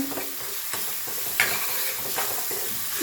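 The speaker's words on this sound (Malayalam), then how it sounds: "ഒന്ന് പച്ചമണം മാറി നല്ല ഒന്ന് അരി നേരെ ഒന്ന് മൂപ്പിക്കാം" Raw rice roasting in a pan with a pinch of salt over low to medium flame, giving a steady dry sizzle broken by several distinct scraping stirs of a spoon, close and alone with no voices.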